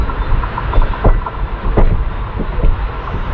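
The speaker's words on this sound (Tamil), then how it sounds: "நம்ம ஹெம்சாகர் எக்ஸ்பிரஸ் வந்து பார்த்தீங்கன்னா ஈரோடுக்குள்ளே அரைவாயிட்டு இருக்கு" Hemsagar Express arriving at Erode station, heard as a steady rumble of wheels and rail clatter with rhythmic joint knocks and some wind buffeting on the microphone, with no voices.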